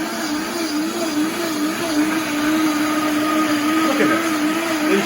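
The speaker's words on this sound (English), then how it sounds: "The mixer will just liquefy." A countertop blender runs loud and steady, liquefying cashews with water into cashew milk, its motor whine holding a constant pitch with slight wavering as the contents churn.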